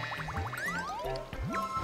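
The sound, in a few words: water bubble sloshing in video game Super Mario Galaxy 2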